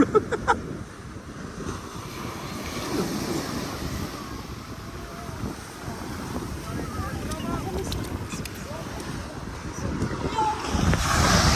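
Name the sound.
big ocean waves crashing on the beach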